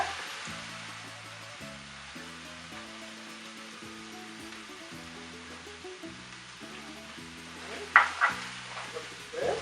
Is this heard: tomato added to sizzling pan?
yes